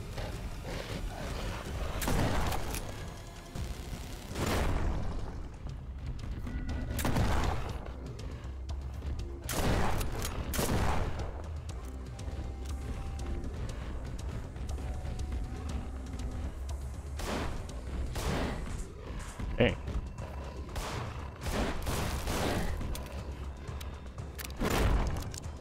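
Shotgun blasts in the video game In Sound Mind arrive as several loud, widely spaced booms over a low windy background rumble, with a sharp crack near the twenty-second mark.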